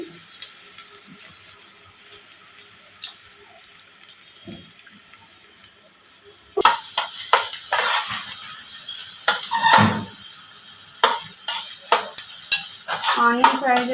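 Andhra-style chicken 65 fries in a pan: after a quiet stretch, a loud sizzle bursts in, broken by sharp scraping and clattering as a utensil stirs the pieces close by.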